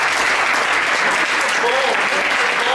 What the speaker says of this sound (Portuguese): Gente, aplauda o Senhor Jesus.